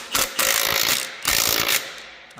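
Wrench clicking repeatedly while tightening bolts on the closing wheel bracket of a John Deere 2510H tractor planter, two close bursts of rapid mechanical ratcheting with a brief pause between.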